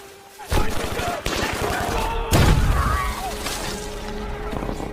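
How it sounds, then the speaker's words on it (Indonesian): Bursts of gunfire and grenade blasts from British troops ambushing Nazi soldiers in a forest in a war film, loud rapid shots with heavy booms, and voices faintly mixed in. "tiba-tiba mereka dihujani peluru dan granat oleh tentara Inggris"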